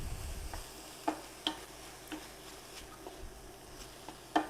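Beef mince and frozen corn cook together in a pan, giving a soft sizzle with occasional spoon taps and stirring scrapes, quiet and close.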